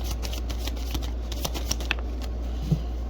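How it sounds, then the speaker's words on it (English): Soft, continuous riffling of a water-damaged deck of cards with faint ticks and taps over a steady low hum, fairly quiet and close. "Bear with me on the shuffling"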